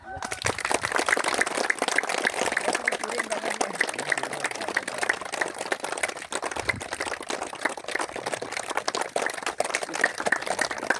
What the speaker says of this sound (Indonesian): Ketua berkata, tepuk tangan untuk kita semua.